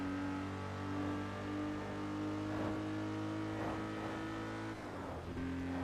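The Wedge car engine in Test Drive Unlimited 2 drones steadily and loudly throughout, a sustained harmonic engine hum with slight pitch shifts as it drives, close and continuous with no talking.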